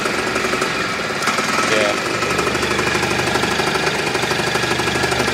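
A restored 1971 Harley golf cart engine idles close by in a loud, steady, knocking chug, with a brief voice over the running engine.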